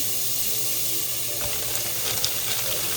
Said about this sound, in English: It's just going to be some regular ground beef. Take it and break it up in the pan.